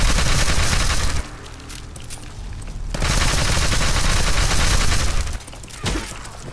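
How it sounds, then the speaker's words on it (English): Rapid automatic gunfire from a weapon in the video game Fallout 4, loud sustained bursts with a short lull between them and a final shot near the end. "when I tested this gun out"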